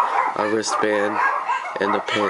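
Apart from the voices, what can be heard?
dogs barking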